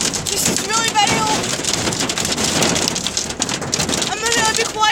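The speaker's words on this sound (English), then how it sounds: "It is a gigantic hailstorm." Hail from a supercell storm pounds on parked cars and windshields in a dense, loud, unbroken patter, with a voice speaking intermittently over it.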